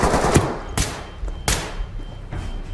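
Sharp gunshots ring out in the tactical police shooter Ready or Not, a few loud separate cracks spaced under a second apart amid quieter game ambience.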